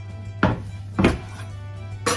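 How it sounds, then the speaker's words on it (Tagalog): An apple is chopped into cubes on a board, with three sharp knife thuds spaced about half a second apart, close and clear against a faint steady hum. "I cut in the cube for the apple"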